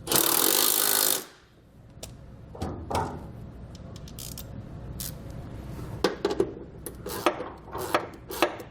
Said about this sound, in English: We're going to start by tightening down the brackets using a 13mm socket.